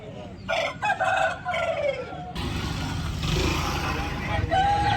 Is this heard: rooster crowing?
yes